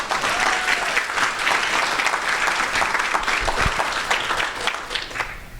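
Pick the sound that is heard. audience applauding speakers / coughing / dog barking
audience applauding speakers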